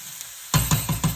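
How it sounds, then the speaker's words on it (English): A rubber spatula stirring a thick mixture around a pot, scraping into the corners in four quick, close, soft strokes after a brief quiet start. "we're just using our rubber spatula to mix that"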